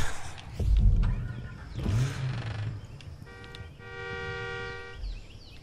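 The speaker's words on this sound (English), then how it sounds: "Who's honking?" A car horn honks in the video game Far Cry 5, a sustained, steady tone partway through, over engine rumble and background game noise.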